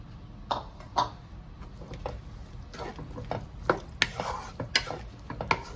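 A spoon stirs chili in a pan while cooking dry mango pickle, giving scattered soft scrapes and clinks against the metal over a quiet sizzle, close and fairly faint.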